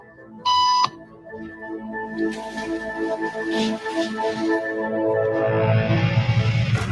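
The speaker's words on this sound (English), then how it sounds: "After just 3 beeps" During a hidden camera conformity experiment, a single sharp electronic beep tone sounds briefly near the start, then gives way to quieter room murmur, rustling and movement that gradually builds.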